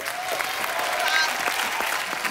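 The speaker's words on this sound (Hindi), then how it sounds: "एक बार बच्चा के लिए जोरदार तालियां" An audience on a TV comedy show claps, a dense, steady burst of applause at moderate distance. The clapping is broken by faint crowd noise and lasts the whole short stretch.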